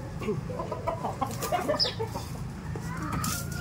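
A Sweater gamefowl rooster clucks in short close bursts, soft throaty calls over farmyard background noise.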